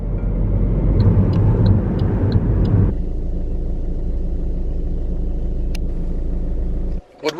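A Toyota Supra sports car passes on the road, a loud broadband engine rumble that surges for about three seconds, then steadies into a lower drone before cutting off near the end.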